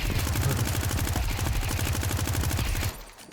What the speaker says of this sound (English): What else we got? A machine gun.